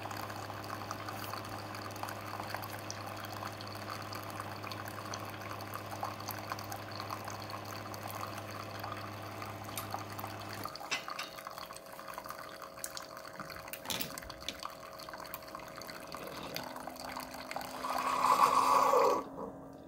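A Keurig K-Duo brews a Twinings herbal tea K-Cup. A faint steady machine hum runs for about ten seconds, then quiet gurgles and drips follow, ending with a brief louder spurt of liquid pouring into the cup.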